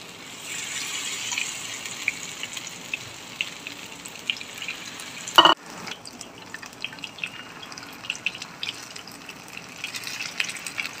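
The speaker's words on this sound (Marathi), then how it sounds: "आता आपण कोळंबी तळून घेऊया।" Marinated prawns fry in hot oil for Prawns Koliwada, a soft steady sizzle dotted with small pops and crackles and one sharper splash partway through, with no voices.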